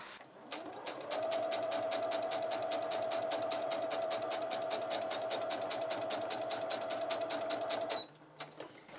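A sewing machine that runs loud, stitching bunting flags onto bias binding with a fast, steady mechanical clatter and a constant whine for about seven seconds before stopping abruptly.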